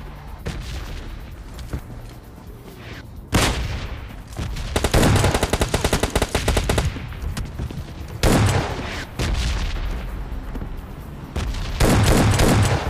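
Gunfire in PUBG Lite rattles in dense automatic bursts and single heavy shots, loud and close, broken by short lulls and ending in another sustained volley.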